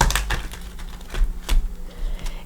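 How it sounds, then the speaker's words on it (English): A Light Seers tarot deck being shuffled by hand, giving a run of crisp, uneven card riffles and taps close to the microphone, with no talking over it. "Pre-shuffled, but we'll go ahead and shuffle it."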